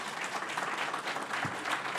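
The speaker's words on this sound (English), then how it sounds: "how about a round of applause for Lon?" Steady, full audience applause at an artist forum in the Adirondacks, a dense wash of clapping heard throughout without talk.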